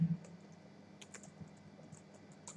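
Code is typed on a computer keyboard, a few quiet, scattered key clicks over a low steady hum, close and without talk.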